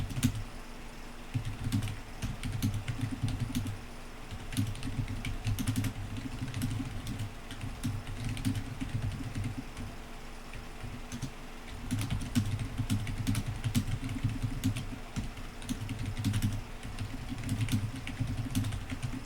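Keys clatter on a computer keyboard as code is typed, quick bursts of clicks over a steady low machine hum, pausing briefly midway.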